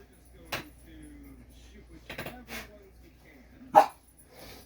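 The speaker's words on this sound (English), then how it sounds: "my other dog is trying to bark at my hubby" A pet dog gives a few short barks and yelps spaced through a quiet room, moderately close, with brief background noises and a louder burst near the end.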